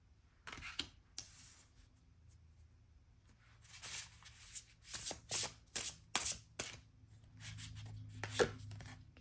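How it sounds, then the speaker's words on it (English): Oracle cards being shuffled and drawn at a tarot reading, with close, quiet riffling and a run of crisp slapping card sounds in quick succession, with no talking. "So we're going to draw these oracle cards first, what your strength is."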